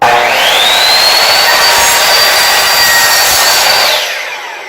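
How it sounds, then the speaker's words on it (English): Miter saw cutting a trim board: a loud, close, steady whine of the spinning blade through the cut, holding for about four seconds before spinning down. "it cuts really easy on the miter saw as well"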